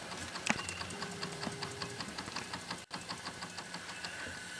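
A small Wilesco D6 model steam engine running, giving a quiet, steady rhythmic chuffing and mechanical ticking at an even pace, close by and alone.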